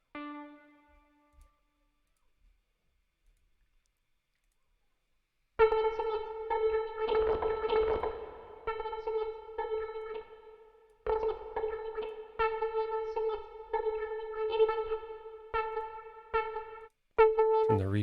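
Synthesized sound-design tones run through reverb and effects, a bright tonal pulse that comes in after a quiet opening and repeats in stuttering, echoing bursts, with no voice.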